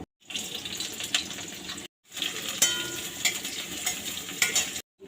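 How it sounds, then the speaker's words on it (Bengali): Sliced onion hits hot oil tempered with nigella seeds in a kadai for eggplant bharta, giving a close sizzling hiss with stirring scrapes, interrupted by two brief silent breaks. "কড়াইতে তেল দিয়ে দিয়েছি, একটু কালো জিরে ফোড়ন দিয়ে দিলাম"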